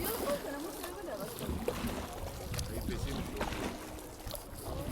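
Boats on Saif ul Malook lake in the mountains, water sloshing and lapping against hulls under a wash of wind and open-air noise, with people talking faintly throughout.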